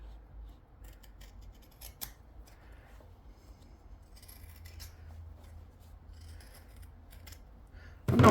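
Scissors snip repeatedly around the fabric seam allowances of a cloche hat, a series of quiet, close crisp cuts with short pauses, ending in a louder rustle.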